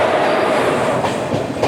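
A Guruvayur–Thrissur passenger train rumbles past close by, a steady broad roar of wheels and cars with a few faint rhythmic clacks near the end and no voices.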